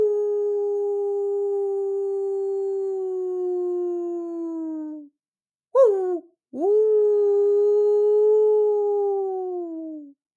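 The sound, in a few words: voice imitating a dog's deep guttural howl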